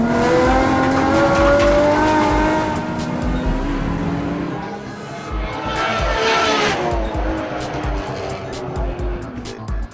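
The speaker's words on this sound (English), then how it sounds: "known for his drift antics, Adam Newton was out in his R32 Skyline, now wide-bodied with 600 plus horsepower and a setup for Time Attack" A wide-bodied R32 Nissan Skyline Time Attack car with over 600 horsepower screams past on a track at Yokohama Superlap 2008, its engine revving high through gear changes with tire squeal, fading and then returning loud.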